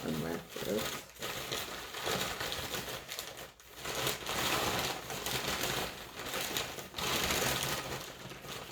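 A package is unwrapped close by, with repeated crinkling and rustling of wrapping in bursts separated by short pauses, while people talk over it.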